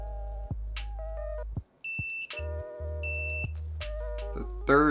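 A cheap multimeter beeping during a continuity test while building a Unikorn 60 keyboard, with short intermittent tones over low electrical hum.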